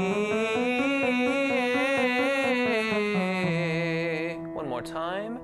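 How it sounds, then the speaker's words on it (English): Baritone voice singing a warm-up trill that wavers rapidly between the fifth and sixth scale degrees and changes vowel midway, loud and close, then breaking into a brief sliding sung phrase at the end. "It's a trill on the fifth and sixth scale degrees."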